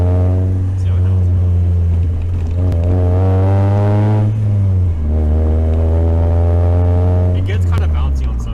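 A Scion car with a turbo kit revs loudly from inside the cabin, its engine note rising, falling and climbing again in long sweeps while people talk over it.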